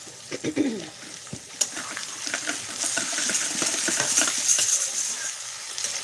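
Tomato added to peas cooking in a pan, a few clinks and scrapes of a spoon followed by a steady, fairly loud sizzle of frying.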